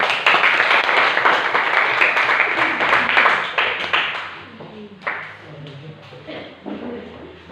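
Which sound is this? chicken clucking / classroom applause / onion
classroom applause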